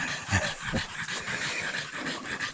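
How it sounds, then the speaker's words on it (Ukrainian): Dogs panting in a forest after running, rapid rhythmic breathing close by with a faint whimper, no talking. "О, собаки набігались. Воно тут відпочивають."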